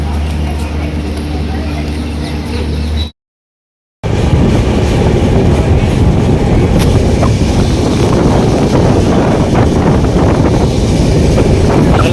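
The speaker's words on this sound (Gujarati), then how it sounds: "અમે ઢસા જંકશને પૂજી ગયા છે અને રેલગાડી આવી છે" A train rumbles at Dhasa junction, a loud rattling roll with heavy wind buffeting the microphone, after a brief dropout; a voice is heard earlier.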